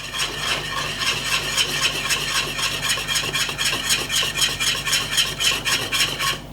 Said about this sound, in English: Keep whisking it.